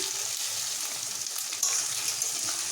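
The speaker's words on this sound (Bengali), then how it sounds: "এখানে আমি এবার পেঁয়াজগুলোকে দিয়ে নেব পেঁয়াজটাকে আমি দিয়ে দিলাম" Chopped onions fry in hot oil in a pan for a chicken dish, giving a steady, close crackling sizzle with light stirring scrapes and no voices.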